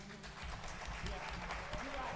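Applause at a school board meeting, a short burst of clapping from a small crowd heard close, mixed with talk from people in the room.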